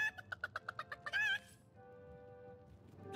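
A chicken in the video game Divinity: Original Sin clucks in a quick run of about eight short, evenly spaced clucks, then lets out a longer squawk before fading into quiet.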